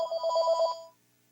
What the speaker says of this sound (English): I don't know whose phone that is.